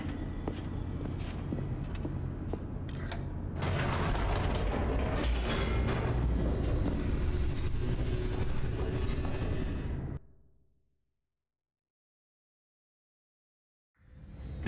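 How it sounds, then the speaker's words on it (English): An elevator plummets downward in the video game The Stanley Parable: Ultra Deluxe, a loud, sustained rumbling, rattling mechanical roar that swells for about ten seconds, then cuts to total silence before a brief return. "The elevator raced downward,"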